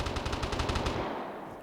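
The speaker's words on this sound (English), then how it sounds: "But then I hear gunshots" A rapid burst of automatic gunfire rattles off in the video game Vigor, about a dozen quick shots lasting under a second before trailing into a fading echo.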